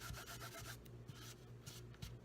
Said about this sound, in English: I want to also take my embossing buddy and make sure this little piece of card is covered